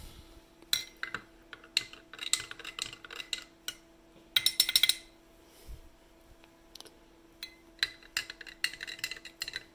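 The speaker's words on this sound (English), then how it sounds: "Then I'm going to stir it up a little bit." Rock candy sugar mixture being stirred in a pot, giving a steady run of light clinks and scrapes from the utensil against the sides, with a louder burst of clatter midway.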